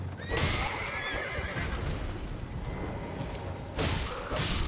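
Horse neighing with clip-clopping hooves in the video game Elden Ring, a loud whinny near the start and another toward the end over steady galloping, with no talk.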